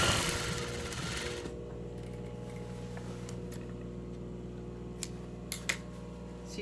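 A sewing machine runs fast and close while back stitching a medieval dagged hood, then stops after about a second and a half, leaving a quiet room with a few faint clicks and taps.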